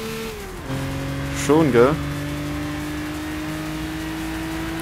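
Classic Lotus sports car engine in Gran Turismo 6, a steady droning tone that drops in pitch then holds evenly through the clip, with a man's short remark briefly over it.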